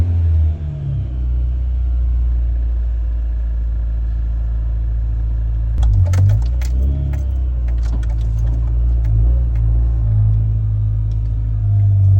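A Honda Prelude engine idles with a surge, giving a steady, close, low rumble that holds throughout, with a brief cluster of light clicks and rattles about halfway.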